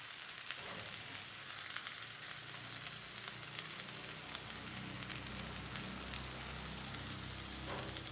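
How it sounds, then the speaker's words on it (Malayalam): Beaten egg poured into a hot pan beside okra for an egg and ladies' finger thoran sizzles with a continuous fine crackle at low, even level, with scattered small pops. "ഞാൻ മുട്ട ഒഴിച്ചു കൊടുക്കാം"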